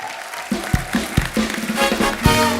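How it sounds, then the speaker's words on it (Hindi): Studio audience on The Kapil Sharma Show claps for the performers, sharp individual claps and thumps standing out over a building crowd applause that swells louder toward the end, with no speech heard. "आइए जोरदार तालियां हो जाए हमारे सारे फनकारों के लिए"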